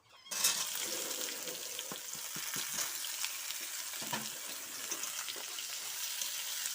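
Chopped onion and potato hitting hot oil with green chilli in a pan for a fish chorchori, a sudden loud hiss that settles into steady close sizzling with occasional stirring scrapes.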